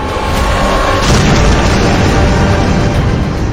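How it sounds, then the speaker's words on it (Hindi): Drone warhead test explosions roar in a loud, continuous blast of rumbling booms with no pause, heavy and close throughout. "यहां होने वाले धमाके इसकी सिर्फ एक मिसाल है।"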